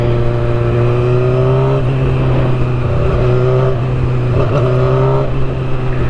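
Motorcycle engine droning steadily at riding speed with strong wind rush, heard from the rider's position through a helmet, with small shifts in pitch as the throttle changes; loud and continuous with no talk.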